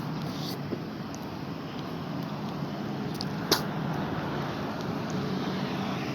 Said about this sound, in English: you still got people with cars making noise